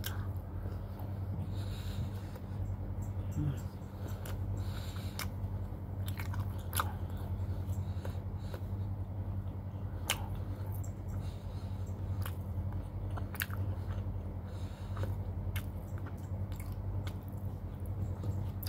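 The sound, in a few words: chewing and biting grilled pork tofu mukbang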